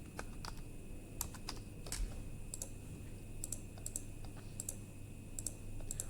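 Clicky keystrokes on a computer keyboard as login details are typed in, irregular bursts of taps at close range over a steady low hum, with no voices.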